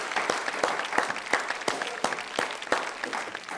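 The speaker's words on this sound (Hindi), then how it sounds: "जोरदार तालियां" Applause from a studio audience at a Hindi poetry and comedy show, a steady bed of clapping with sharp individual claps standing out in a quick uneven rhythm.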